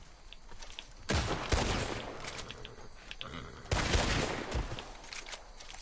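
Gunfire in the Western shooter Red Dead Online: two separate bursts of rapid, loud shots with echoing tails, each lasting a couple of seconds, with quieter rumble between them.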